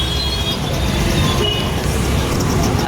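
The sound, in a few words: heavy road traffic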